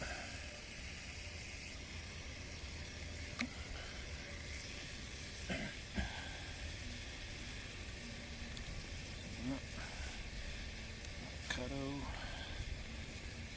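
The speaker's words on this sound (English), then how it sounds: "I'm also going to fry up some shallot in the bacon fat" Shallots fry in bacon fat with a soft, continuous sizzling hiss, quiet and steady, while faint voices speak occasionally over it.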